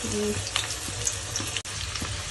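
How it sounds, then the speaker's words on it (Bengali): Potatoes and onions fry in a pan with a close, busy sizzle and scattered crackles for a couple of seconds, unbroken by talk. "আলু পেঁয়াজ টিয়াজ সব ভাজা হচ্ছে এখানে"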